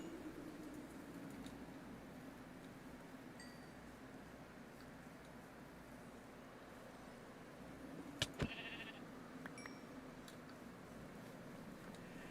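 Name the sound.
sheep bleating in the video game Minecraft (modded)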